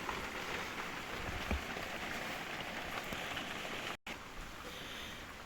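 Steady rain falls outdoors, a continuous dense hiss of drops hitting surfaces that runs throughout, with one brief cut to silence near the end.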